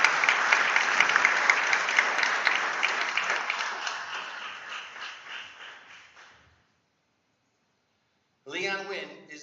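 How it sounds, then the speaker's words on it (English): Applause at a school board meeting as a student walks up, a room full of clapping hands that holds steady for several seconds, then fades out into silence before a voice begins speaking. "let's have an equally thunderous loud applause for Nguyen as he makes his way up here"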